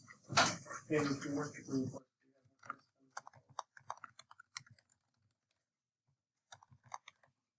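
A computer keyboard is typed on at a desk in short, irregular bursts of crisp clicking keystrokes after a brief moment of someone speaking, with quiet gaps between.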